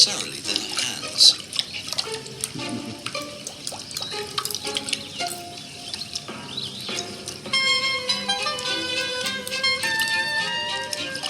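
Baboons wade across a river, sending up water splashes and drips amid faint bird calls and other nature sounds, with a narrator talking over them.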